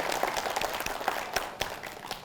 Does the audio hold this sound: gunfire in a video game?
no